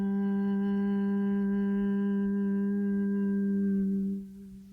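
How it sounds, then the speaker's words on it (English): A single deep, sustained chanted Om hums steadily with rich harmonics before fading out at the end. "on the exhale, chanting Om"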